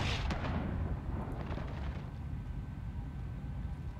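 A fire grenade detonates in Call of Duty: Modern Warfare, a heavy booming burst at the start that fades into a dense, rumbling roar of flames over the next few seconds.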